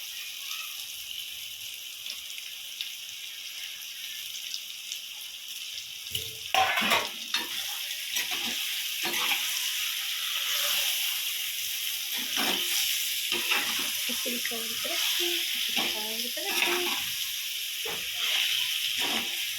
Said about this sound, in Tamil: நல்லா சிக்கனை நல்லா வெங்காயம் தக்காளி எல்லாம் மிக்ஸ் ஆகி வர்ற அளவுக்கு நல்லா கிண்டிடுவோம்.